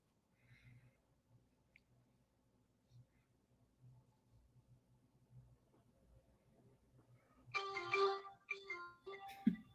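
A phone ringtone bursts in near the end, a loud bright electronic tune after a quiet stretch of faint background noise.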